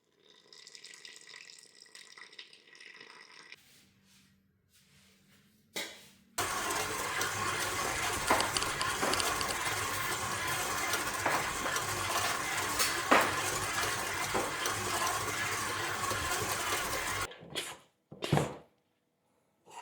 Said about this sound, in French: Très bien, donc on va ajouter l'eau.